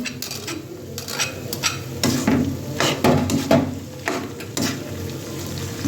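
Onion, garlic, green chili and bay leaf hit a hot pan for a lentil dish, with sizzling under repeated stirring and scraping of a utensil against the pan; no one speaks.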